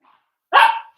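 A single sharp dog bark, close and loud, after a brief near-silence.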